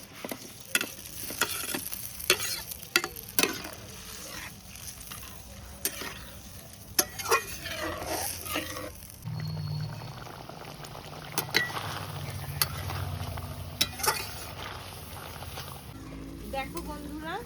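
Fried prawns tipped into a bubbling mustard and tender-coconut malai gravy and stirred, with steady simmering hiss, wet sloshing and repeated clinks of a spoon against the pan close by.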